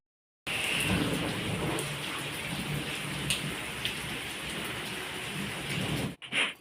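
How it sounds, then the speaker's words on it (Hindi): Heavy rain pours outdoors in a dense, steady roar that holds loud and unbroken for about six seconds, with faint thunder under it, then cuts off abruptly near the end. "ज़बरदस्त वाली बारिश, बहुत शूट कर रही है।"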